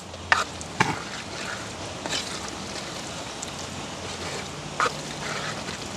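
Beans stir-fry with tamarind being turned over in a pan in a village kitchen, with a steady low sizzle and a few sharp scraping clatters of the spoon against the pan, near and fairly loud.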